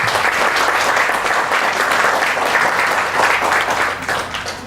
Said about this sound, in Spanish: a la señorita Úrsula Vélez Moro Contreras con un fuerte aplauso.